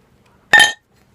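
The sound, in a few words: glass clinking while opening beer bottle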